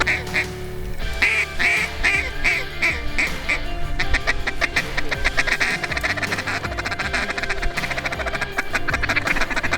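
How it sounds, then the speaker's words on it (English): Ducks quacking repeatedly as a flock flies in during a waterfowl hunt in Alberta, the calls loud and dense over a busy background of other birds. "here come the ducks"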